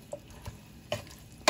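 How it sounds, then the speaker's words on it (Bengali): A few sparse scrapes and taps of a spoon stirring food in a covered pan over a high gas flame at home, with one sharper clatter near the end and nobody talking. "একটু নাড়াচাড়া করে দেবো ভালো করে"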